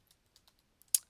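Soft, scattered keystrokes tap on a computer keyboard in a quiet room, a handful of light clicks ending in one louder key press, with no talking.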